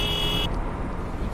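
A short, bright bus horn toot in Fernbus Coach Simulator lasts about half a second, then gives way to a steady low engine rumble.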